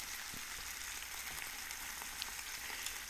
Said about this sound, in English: we're just gonna do a light sear on both sides